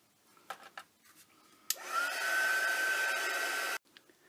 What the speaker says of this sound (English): I'm going to dry these and then we can do the next layer.